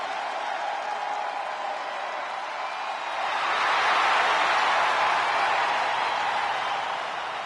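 An arena crowd in the wrestling game WWE 2K25 roars with a steady, broad wash of cheering that swells louder midway and holds, with no talk over it.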